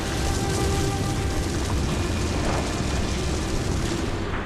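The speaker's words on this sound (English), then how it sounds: "Careful, those flare-ups will cook you alive." Fiery flare-ups erupt in the video game Dungeon Siege 3: a loud, continuous roaring rumble with deep booming bursts, sustained without a break.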